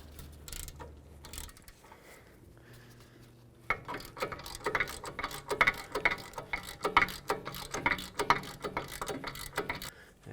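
Socket and ratchet work a bolt on the rear wheel hub of a 2005-2009 Chevy Equinox, with quick close clicking ratchet strokes in an irregular rhythm that start after a few quieter mechanical clunks.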